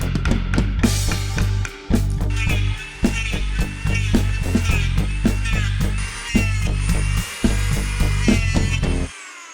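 A power tool works at the top plywood layer of a laminated sailboat frame with wedged slats, producing a loud, rhythmic series of grinding, sawing bursts with short pauses between strokes, stopping abruptly at the end.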